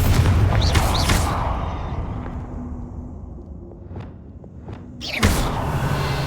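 Bombarda and Confringo spells go off in Hogwarts Legacy, giving booming blasts with a whoosh, a quieter stretch holding faint thuds, then another heavy boom near the end.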